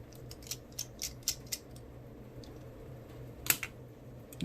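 Screws being removed from a Motorola Razr V3 phone chassis, giving a run of small, faint ticks and clicks close to the listener, with one sharper click near the end.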